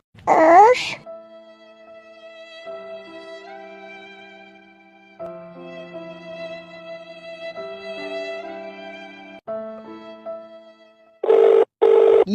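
A phone rings with a melodic electronic ringtone, playing repeated steady tones up close for several seconds. Brief bursts of a loud voice come at the start and end.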